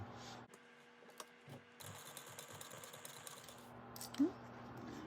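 A sewing machine bastes fabric pieces in place for a light-up bag, running in short bursts of rapid even stitching between pauses and handling noise, with no talking.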